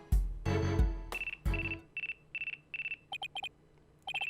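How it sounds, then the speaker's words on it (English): A telephone rings in the video game Phoenix Wright: Dual Destinies, with repeated electronic ring bursts in a steady pattern following several loud thuds and crashes at the start. "Looks like I have a phone call."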